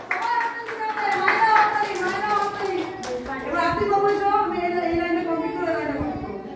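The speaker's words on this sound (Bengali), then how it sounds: "বেশ, সবাই হাততালি দাও" Children at a village preschool clap their hands together in a quick, scattered burst of claps, with a voice and kids' chatter running over and after the clapping.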